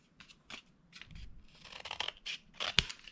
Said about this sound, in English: take your scissors, cut at an angle,